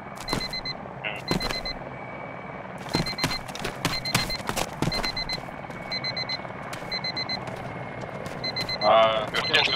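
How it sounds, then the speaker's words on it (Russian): A bomb in ArmA 2 with the ACE mod beeps like an alarm clock, sending out repeated short bursts of high electronic tones in a steady pattern, with people talking over it and sharp clicks and thumps in between. "Краб, я через тебя этот будильник слышу."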